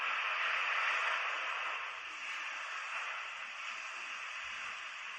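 A calm, peaceful weather soundscape from a Muse meditation headband, a steady soft wash of windy, rain-like hiss, holds even and fairly faint, easing slightly after the first second.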